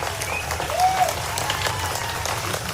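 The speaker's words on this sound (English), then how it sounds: "So there's no talking, it's just clapping." Audience applause from a played video, a steady even wash of many hands clapping at moderate level with no talking, continuing throughout.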